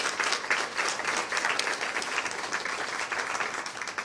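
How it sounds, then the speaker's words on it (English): An audience applauds steadily at a Cleveland Metropolitan School District announcement, dense even clapping that stays loud throughout the short stretch with no speech over it. "give them a round of applause if we can"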